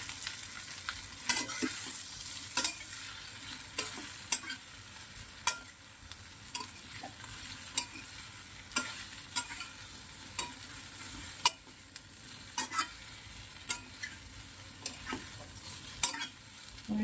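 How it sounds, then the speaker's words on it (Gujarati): Sesame seeds and asafoetida tempering in hot oil over a low flame while making muthiya dhokla, a steady close sizzle crackling throughout with sharp spattering pops every second or so, no voices. "વઘાર મારી દેવાનો"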